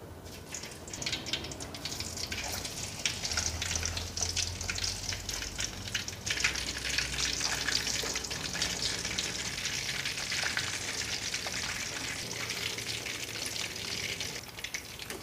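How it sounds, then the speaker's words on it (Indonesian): Steady crackling sizzle of tofu otak-otak frying in hot oil in a wok, dense and continuous at close range, with faint stirring noises and no speech. "Di sini saya sudah panaskan minyak di atas wajan, jadi kalau minyak sudah panas langsung kita goreng"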